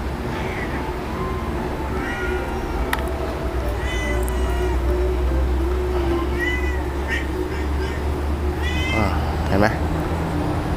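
A cat meows repeatedly, close by, in short rising and falling calls spread across the stretch over a low steady background hum, with a person talking nearby.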